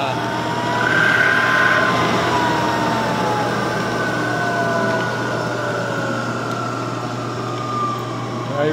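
A Chevalier FM-3VS manual knee mill with a 9 x 42 inch table runs at its lowest spindle speed of about 60 RPM, giving a steady, even mechanical hum with a faint high whine in a workshop.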